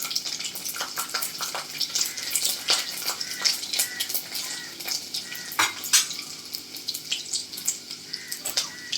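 Garlic cloves drop into hot oil with cumin for masoor dal tempering, producing a steady close sizzle and crackle with sharp pops scattered throughout.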